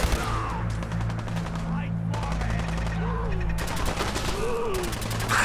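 Rapid gunfire from Fallout 4's Far Harbor, shots and automatic bursts clustered in several volleys over a low droning game backdrop, loud and close, with faint voices mixed in.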